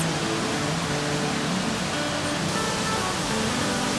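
Burney Falls waterfall in Northern California, heard from the base as a loud, steady roar of falling water with no voices.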